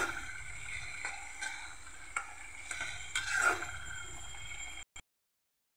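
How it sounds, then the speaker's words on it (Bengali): Chili and turmeric powder spice paste sizzles and fries in hot oil while a spoon stirs it, giving a steady close crackle with soft periodic scrapes before cutting to silence. "মশলাটাকে একটু কষিয়ে নেব।"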